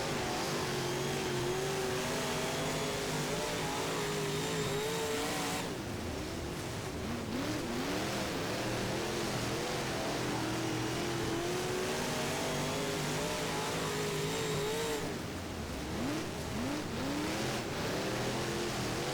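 A UMP modified race car engine in the rFactor racing game at Seven Flags roars steadily, its pitch sweeping up and down as the throttle is worked through corners, loud and continuous with no talking.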